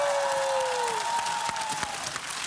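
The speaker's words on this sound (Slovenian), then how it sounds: "Wow, kakšen aplavz." Studio audience applause on a Slovenian Friday-evening talk show, a full burst of clapping and light cheering with a sliding tone fading over it early on, sustained throughout.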